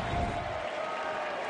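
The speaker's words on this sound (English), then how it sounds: "And an ovation from this crowd." A crowd gives a steady wash of applause at a college basketball game between Charleston and Stony Brook in a packed 5,100-seat arena. The clapping is dense and sustained, coming from a distance.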